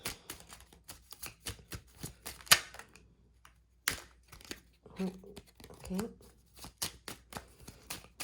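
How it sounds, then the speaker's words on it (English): Tarot cards shuffled by hand in a quiet room, a series of crisp riffling snaps and soft slaps in uneven bursts, with a single brief spoken word. "I'm going to keep shuffling, see if we get one in particular that jumps out"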